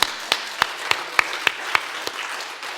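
Slow, sparse hand claps ring out in a church during a Sunday morning worship service, about nine distinct claps at a steady, even pace, fairly close and moderately loud.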